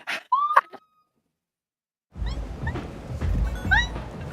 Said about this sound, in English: I hear her meowing below the chair